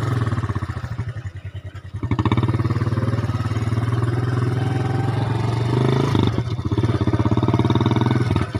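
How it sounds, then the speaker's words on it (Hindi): Motorcycle kick-started on a journey in Sindh, with a short uneven sputter before the engine catches and settles into a steady, close, loud idle that runs on with a slight change near the end. "गाड़ी को स्टार्ट करो, किक मारो, आगे का सफ़र जारी करे।"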